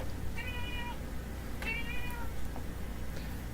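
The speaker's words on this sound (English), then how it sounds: "I can hear him coming into the room, meowing at me." A cat named Mr. Boos meows twice in a room, the two clear, moderately close cries spaced about a second apart over a steady low background hum.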